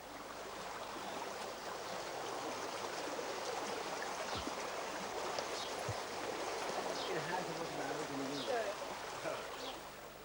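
A real river in Persia flows with a continuous rushing, babbling wash of water, fairly close and even in level for about ten seconds.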